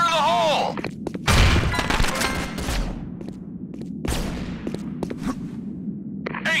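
In a shooter video game, a thrown grenade bursts into loud, booming blasts among dense gunfire and sharp impacts. Shouting voices are heard nearby.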